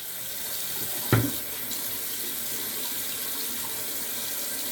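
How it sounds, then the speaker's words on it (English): Running tap water pours steadily into a sink while a razor blade is rinsed, a constant hiss with one brief splash or clunk near the start. "so I'm gonna rinse this off real quick"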